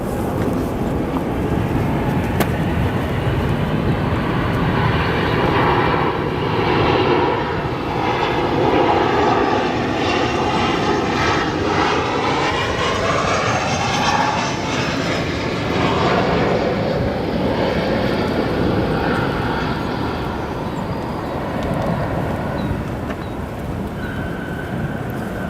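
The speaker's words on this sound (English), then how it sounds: "our next arrival, we got the 737. This one from Atlanta." A Boeing 737 arriving at Chicago O'Hare from Atlanta roars overhead, its engine noise swelling and sweeping in pitch as it passes, then easing into a broad, steady rumble; no one talks.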